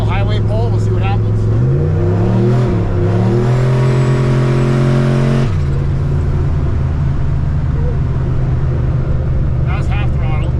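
A turbocharged LSX engine in a car revs at half throttle, loud and close, its pitch stepping up through a sustained rise before dropping back to a rough idle.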